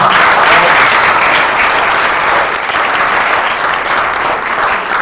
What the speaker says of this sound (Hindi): एक बार आप सबके लिए जोरदार तालियां